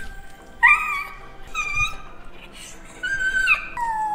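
A dog whimpers and whines in high, drawn-out cries, a few separate bursts close by, alone with no talk over them.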